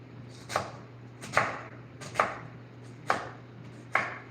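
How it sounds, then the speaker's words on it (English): Knife chopping a red onion on a cutting board, five distinct sharp chops spaced roughly evenly about a second apart, close and clear over a faint steady background hum, no voices. "we're going to cut the onion"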